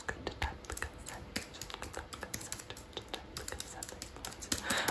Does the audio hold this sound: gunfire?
no